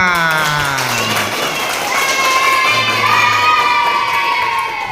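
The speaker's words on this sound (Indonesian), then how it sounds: "tepuk tangan untuk kita semua" A primary school class cheers and claps at the end of a religious studies lesson, with children's voices shouting and singing over scattered clapping throughout.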